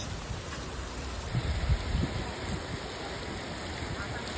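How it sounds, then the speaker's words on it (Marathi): Heavy rain pours down in a steady, dense hiss, with faint voices speaking somewhere beneath it. "भर पाऊस म्हणते पहिला पाऊस आहे"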